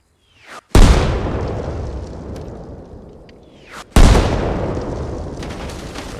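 Two loud, close explosions in Arma Reforger destroy a helipad refuel point: a sharp blast, then a second heavy boom about three seconds later, each trailing off in a long rumbling decay, with no voices.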